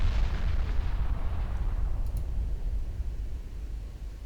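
A deep rumbling launch blast, apparently destroyers firing torpedoes in a naval strategy game set in 1964, opens loud and heavy, then fades into a low lingering roar with a faint click near the middle.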